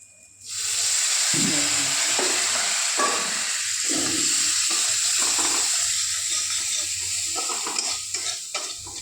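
Masala frying in oil for a katla fish curry starts with a sudden bright, steady sizzle up close, with scraping stirs and clinks of a spatula running throughout. No one talks.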